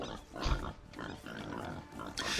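A wild boar grunts in a strategy video game, a snorting pig-like grunt heard amid busy game sounds, with people talking in the background.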